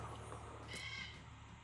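A faint crow-like caw from a bird rises once over steady background hum and ambient noise in a real-time strategy game.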